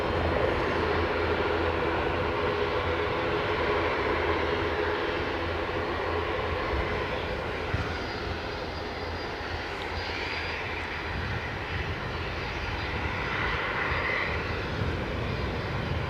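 A Loganair aircraft departs Aberdeen airport bound for Sumburgh, its engines making a steady, loud roar that holds through the whole stretch with no voices over it.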